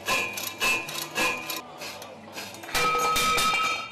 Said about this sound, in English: Cutting the pipe to size, we put the pipe in the power hacksaw braid.